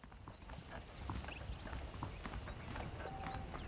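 Saddled horse hooves clip-clop at a steady walking pace in the video game Red Dead Redemption, muffled and moderately close, with faint background ambience.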